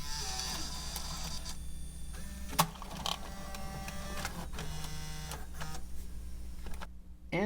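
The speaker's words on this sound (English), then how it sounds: "So let's see that eject." A Panasonic AG-DV2500 MiniDV DVCAM VCR ejecting a tape gives a steady mechanical whir with motor hum and a sharp click partway through, then a final clunk, heard up close with no speech.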